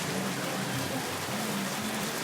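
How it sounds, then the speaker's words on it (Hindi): Heavy rain pouring down in Lahore, a dense, steady hiss of drops hitting surfaces, continuous and fairly close, with no voices. "बहुत ही तेज़ कमाल की बारिश शुरू हो गई है"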